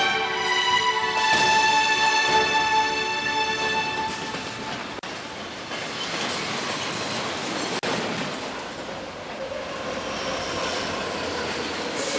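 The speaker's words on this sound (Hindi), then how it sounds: "चलो चलो, ट्रेन जा रही है।" A train pulls away, steady rumble and rolling clatter of railcars with a brief high whistle-like tone at the start, fairly loud and continuous, no speech.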